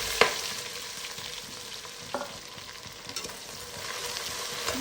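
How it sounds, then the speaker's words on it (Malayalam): Four large sliced onions sauté in a hot pan for chicken biryani, a steady sizzle with a few scraping stirs of a spoon against the pan. "ഒന്ന് വഴറ്റി കൊടുക്കാം."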